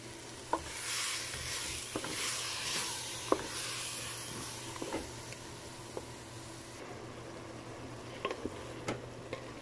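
Chicken with blended tomatoes sizzles softly in a pan while a utensil stirs it, giving a steady quiet frying hiss broken by scattered scraping clicks.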